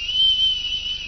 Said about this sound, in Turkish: Bu konserlerde alkış sırasında o iğrenç kulaklara zarar veren ıslığı siz çalıyorsunuz.